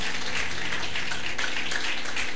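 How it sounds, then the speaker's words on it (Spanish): Steady church congregation applause fills the whole short stretch, dense and even, with no voices standing out. "Fuerte ese aplauso, iglesia."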